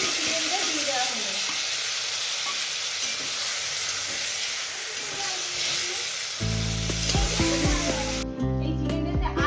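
Marinated chicken fries in hot mustard oil with a loud, constant, crackling sizzle close by for about six seconds, after which music takes over and the frying sound fades beneath it.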